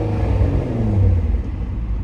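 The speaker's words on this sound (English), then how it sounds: "I'm gonna rev it." Twin-turbo Infiniti G35 engine revving, a steady deep rumble with a slight rise in pitch, loud and close, with no talking.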